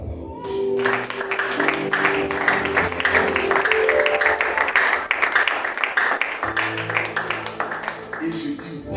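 A church congregation at a seminar applauds, with loud sustained clapping mixed with cheering voices and background tones for the whole stretch.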